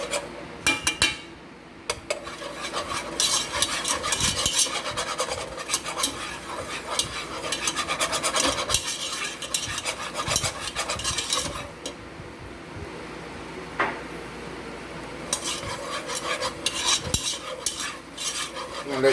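A spoon scrapes and stirs steadily through a homemade flour roux cooking in a pot for bacon five-cheese macaroni, with soft clinks and a faint sizzle running continuously, close and unaccompanied by talk.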